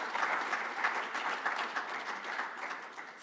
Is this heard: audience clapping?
yes